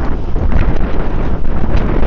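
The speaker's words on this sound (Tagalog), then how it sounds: "Grabe pala talaga lakas ng hangin" Strong coastal wind in Coron, Palawan roars and buffets the microphone continuously, a loud rumbling gust with fluttering bursts throughout.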